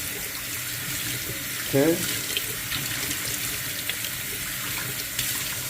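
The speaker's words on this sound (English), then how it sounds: "you guys want to rinse the beans thoroughly because there's a lot of dirt in those beans" Tap water runs steadily from a kitchen faucet while dried beans are rinsed for bean and bacon soup, a continuous close hiss with one brief splashy burst; a voice speaks a single short word.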